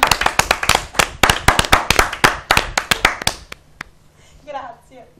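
Clapping from a small group during an Italian sports talk show, sharp irregular claps close by for about three and a half seconds, then dying out to quiet with faint voices talking underneath.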